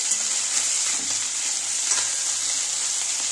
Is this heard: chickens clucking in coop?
no